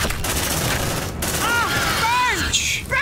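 Combat in the video game Aliens: Dark Descent, with rapid gunfire bursts crackling through a dense, noisy battle and a grenade blast landing near the end, while voices shout over the fight.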